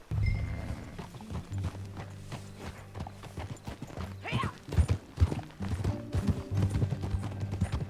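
Horse hooves clip-clopping at a steady riding pace in the Red Dead Redemption II video game, with creaking tack, a brief whinny and faint voices in the background.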